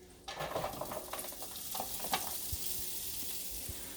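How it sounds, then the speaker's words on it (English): Onions hitting hot oil in a pan give a sudden, steady sizzle and crackle with a few faint stirring clicks, close up and with no talking. "You can hear the nice sizzle in the pan."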